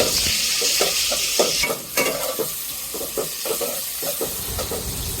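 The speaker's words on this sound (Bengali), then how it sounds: "যতক্ষণ না বাদামি কালারটা আসবে ততক্ষণ আমি ভেজে নেব" Onions frying in a pan until brown, a steady loud sizzle and hiss with repeated stirring scrapes, heard alone during biryani cooking.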